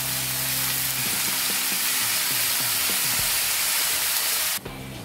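Spinach fries in hot oil with garlic and green chilli, a steady, loud, close sizzle and hiss with light stirring scrapes, the tone shifting abruptly near the end.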